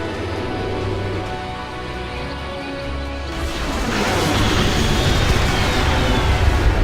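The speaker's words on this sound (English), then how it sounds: "Here comes another Hades bomber squad." A Hades bomber squad of aircraft flying in the strategy video game Ashes of the Singularity, a steady engine roar that swells louder and denser partway through and carries on continuously.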